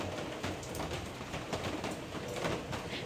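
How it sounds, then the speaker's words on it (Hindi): Cool rain falls steadily in a close, even hiss of drops on surfaces, with no voices over it. "अच्छी ठंडी ठंडी बारिश है ना।"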